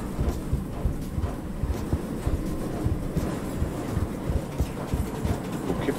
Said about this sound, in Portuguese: É o trem que tá se movendo.